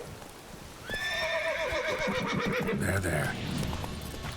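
Roach, the horse in The Witcher 3, lets out a sharp whinny over rapid galloping hoofbeats, with a brief spoken word nearby.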